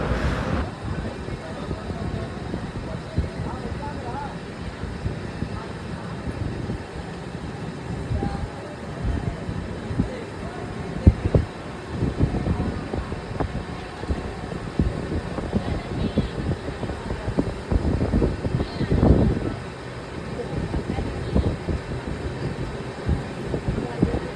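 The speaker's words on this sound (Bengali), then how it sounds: "আজকে সারা দিন আমার ট্রেনে জার্নি রয়েছে" Howrah to New Delhi Poorva SF Express running via Gaya, heard from inside the coach as a continuous low rumble and rattle with wind buffeting, occasional clunks and faint voices in the background.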